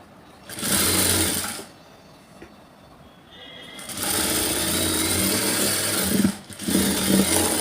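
A sewing machine stitches a blouse seam in bursts. A short run is followed by a pause, then a longer continuous run with a brief stop near the end, loud and close with no talking.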